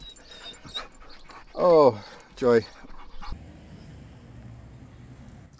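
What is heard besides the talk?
dogs panting and whimpering to go out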